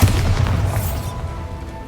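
A Bombarda spell detonates in Hogwarts Legacy, a loud, heavy boom with a deep rumbling body and crackling debris that trails off over a couple of seconds.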